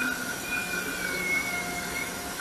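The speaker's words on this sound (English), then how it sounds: "The train just comes out of thin air." A train slowing down rolls along the tracks with a steady low rumble and faint high squeals from the wheels, continuous and fairly close.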